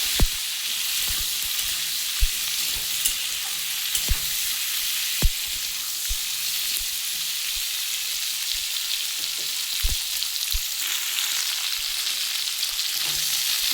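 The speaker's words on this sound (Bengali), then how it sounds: "আমি ফুলকপিটা ভালো করে লাল লাল করে একটু ভেজে নেব ফুলকপি ভাজতে একটু তেলটা কিন্তু বেশিই লাগে" Cauliflower florets fry in a generous amount of oil with turmeric and salt, a steady close sizzle that holds for the whole stretch, broken only by occasional soft clicks and taps.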